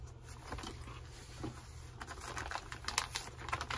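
FN High Power handgun package being unwrapped from a green plastic bag, with soft crinkling and scattered light taps and rustles, close and fairly quiet, no talk.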